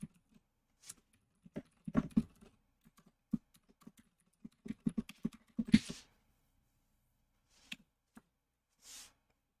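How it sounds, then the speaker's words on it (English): Soft computer keyboard typing in irregular bursts of clicks, faint and slightly distant, with pauses between short runs of keystrokes. "Can you guys hear the keyboard?"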